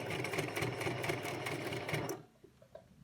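A sewing machine runs steadily while stitching a cloth face mask, its rapid needle rattle continuous and close for about two seconds before stopping abruptly, leaving faint handling clicks.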